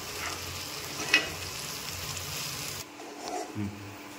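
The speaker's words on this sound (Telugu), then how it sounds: "అల్లం వెల్లుల్లి పేస్ట్ బాగా వేగిపోయిందండి" Ginger garlic paste for chicken curry sizzles in a pan with a quiet hiss, a brief scrape of stirring, then the frying fades and dull knocks follow.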